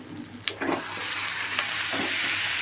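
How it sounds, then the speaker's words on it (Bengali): Ginger, garlic, chilli powder, turmeric and salt fry in a pan for crab curry, a steady close sizzle that builds slightly, with a few spatula scrapes early on. "আদা রসুন দেওয়ার পর খুব ভালো করে কষিয়ে নিয়ে তারপরে দেখো একটু লঙ্কার গুঁড়ো, হলুদের গুঁড়ো আর নুন পরিমাণ মতন দিয়ে দিয়েছি।"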